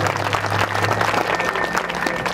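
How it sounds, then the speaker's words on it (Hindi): Loud, dense applause from a crowd at a devotional jagran event, continuous clapping throughout with no pause. "जोरदार तालियां"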